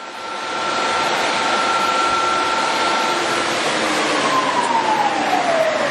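An Axelson 18x102 engine lathe runs at 1189 RPM with a loud, steady mechanical whir and a high whining tone that slides downward in pitch near the end.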